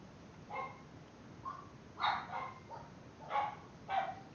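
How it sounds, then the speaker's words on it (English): Dogs bark in a home during a card-game stream: a scattered run of short barks and yips, fairly faint and set back from the microphone, arriving in uneven bursts over a few seconds. "The doggos, they are barking."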